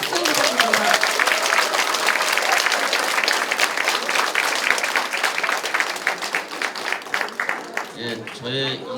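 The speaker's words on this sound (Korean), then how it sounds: "뜨거운 박수 부탁드립니다" Sustained audience applause fills a campaign office opening for a National Assembly candidate in Mapo, Seoul, dense and steady throughout, with a voice briefly rising over it near the end.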